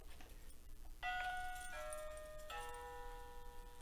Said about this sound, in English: that's a long doorbell